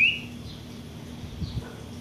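A pale-breasted thrush (sabiá-barranqueira) gives a bright, short whistled note, followed by a couple of fainter notes over a low background hum.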